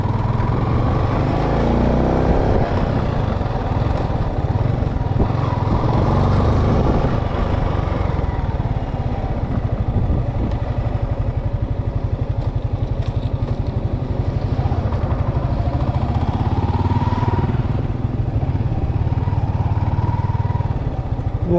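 A Sniper motorcycle engine drones steadily and loudly throughout, a continuous rumbling ride with wind noise and no pauses.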